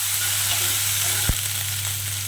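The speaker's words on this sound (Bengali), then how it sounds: "সবজিগুলোকে একটু নেড়ে নেবো।" Vegetables for semolina khichuri sizzle and crackle as they are stir-fried in a hot pan, a steady close hiss with one sharp clack of the spatula midway.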